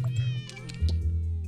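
A cartoon cat meows in a cat puzzle video game, a couple of short, close, clear meows over steady game music, with no talking.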